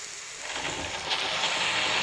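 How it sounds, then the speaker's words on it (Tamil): Steady rain falling outdoors, a dense broadband hiss that swells slightly after the first second and continues evenly, close and moderately loud with no voices. "மழை நிற்கிற வரைக்கும் வெயிட் பண்ணலாங்க"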